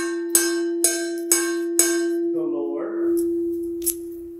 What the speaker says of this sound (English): The bigger part will be